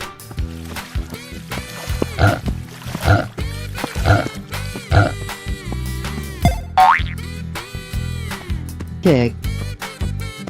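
A cartoon pig oinks in a children's animal-painting animation, its grunts mixed with bouncy boing effects and cheerful background music.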